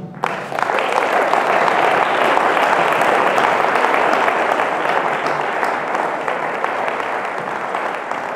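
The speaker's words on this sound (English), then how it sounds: "a nice warm round of applause" Concert audience at a gala applauds steadily, a dense, loud wash of clapping that swells in quickly and holds for several seconds with no talk.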